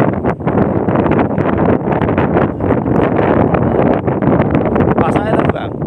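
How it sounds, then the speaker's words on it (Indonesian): Strong wind buffeting the microphone high on Mount Sindoro along the Watu Lunyu route, a loud continuous roar with gusty rustle throughout; people talk faintly beneath it. "Angin dari sana."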